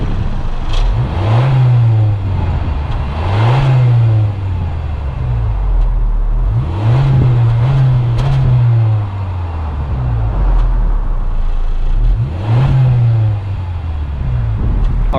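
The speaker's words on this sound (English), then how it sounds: "let's go ahead and see how this sounds when we actually press on the gas here." A 2021 Honda Civic EX engine revs up repeatedly as the gas is pressed, several rising surges with rhythmic pitch sweeps and brief dips between them, loud and close with no talking.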